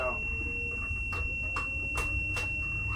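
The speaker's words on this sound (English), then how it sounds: "We got something beeping at us." Inside a Lightning eMotors Transit 3500 electric ambulance, a steady high electronic tone drones while several short warning beeps sound at regular intervals, with a low hum underneath.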